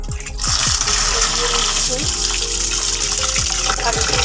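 Water gushes steadily from a tap into a container of rice being soaked for fried rice, a loud, continuous splashing pour close by with low rumbling underneath.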